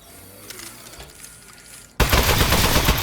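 Aperture Science Turret opening fire in Aperture Desk Job, a sudden loud, dense stream of rapid mechanical shots that cuts in after quieter clicks and continues unbroken.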